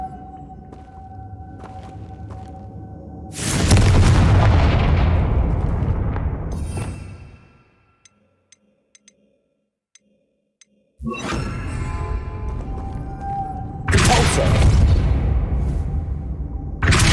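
A Confringo blasting spell fires in Hogwarts Legacy: a loud booming burst with a long fading roar, a brief near-silent gap, then further heavy blasts and rumbling that carry to the end.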